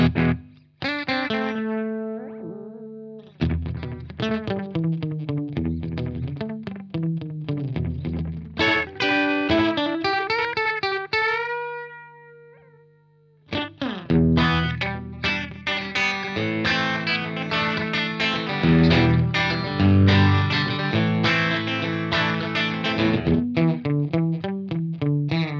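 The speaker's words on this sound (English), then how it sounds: "maybe a longer delay time so you can really hear" Electric guitar played through a budget Cuvave analog delay pedal, phrases and chords trailing into repeating echoes that fade between notes, with short pauses before playing resumes, loud and close with no talk.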